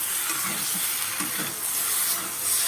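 Vegetables including eggplant are stirred in a hot pan for a fish curry, a steady close sizzle with soft scraping strokes of the spoon throughout.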